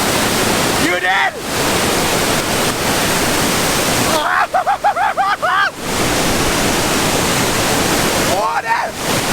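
Waterfall in Norway roaring as loud, continuous rushing white noise close by, with people shouting and talking excitedly in three bursts over the torrent.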